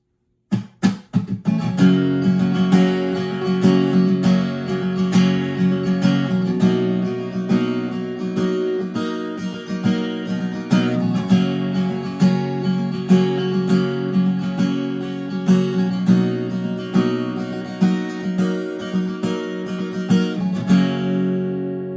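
Steady acoustic guitar strumming in a driving rhythm, full chords ringing continuously for a long stretch, close and loud, no voices.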